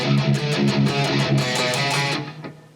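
Electric guitar riff played on two strings, alternating palm-muted chugs on the low string with higher notes, a quick steady rhythm of about a dozen picked hits, loud and close before ringing out.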